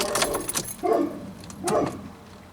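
A bunch of keys jingles in a few short bright bursts, a first shake followed by two more spaced jangles, close by and fairly quiet.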